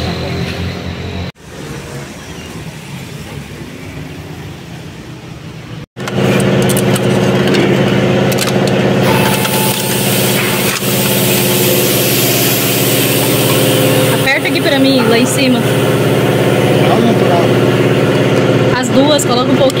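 A car engine runs while the car is driven into a tire shop for a tire replacement, a loud steady mid and low rumble, quieter at first and then much louder and closer, with people talking over it.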